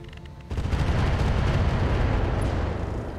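Heavy weapons fire against a Shadowhawk mech in the RogueTech BattleTech mod erupts after a short quiet lead-in into a loud, sustained rumble of gunfire and explosions that slowly tapers, with no talking.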